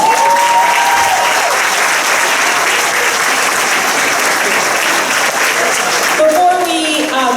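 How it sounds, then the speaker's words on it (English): An audience at a student award ceremony bursts into loud, sustained applause, dense clapping filling the room before a voice starts speaking near the end. "So let's give that a round of applause."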